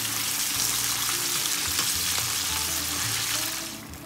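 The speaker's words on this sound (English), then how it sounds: "we've got some more to fry, so let's get that in here" Sheepshead fish fries in hot oil, a loud, dense, continuous bubbling sizzle heard up close, easing slightly toward the end.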